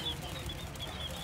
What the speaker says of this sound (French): il y a beaucoup d'oiseaux dans des toutes petites cages